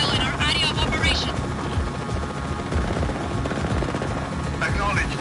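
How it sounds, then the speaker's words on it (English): Helicopter in the video game Just Cause 4, a steady loud rotor drone with gunfire mixed in, and voices talking over it. "He's in a helicopter."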